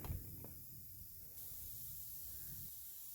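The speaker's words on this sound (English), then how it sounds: "You also want to be careful to spray at all different angles so that you're getting all the different grills and other details in there." Aerosol primer hisses steadily from a spray can onto an HO scale GP9 model locomotive, a close, continuous broadband spray lasting a few seconds with a brief soft knock at the start.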